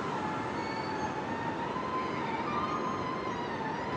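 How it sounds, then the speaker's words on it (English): Air raid sirens sound across Ukraine during a Russian missile attack, giving a sustained, slowly shifting wailing tone that runs the whole time over a dense, even wash of background noise. "Air raid sirens rang out across Ukraine in the early hours of Thursday as Russia launched one of its biggest missile attacks"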